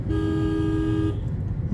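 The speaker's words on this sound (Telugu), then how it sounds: "రైట్ అండ్ స్ట్రైట్ హారన్ కొట్టండి" A single loud car horn honk holds for about a second, then fades into background rumble.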